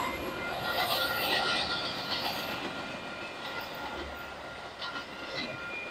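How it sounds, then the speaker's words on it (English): A Metra commuter train passes on the line by the old Arlington racetrack, a steady broadband rumble of rail cars and wheels close by that holds fairly loud throughout with no talking. "the train that just went by was the Metra line that stops right by the old Arlington racetrack"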